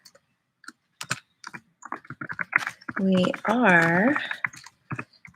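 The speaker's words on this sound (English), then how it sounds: "I'm just typing out what we're going to do" Someone types on a computer keyboard with quick, irregular close key clicks in short bursts. A person speaks over the tapping partway through.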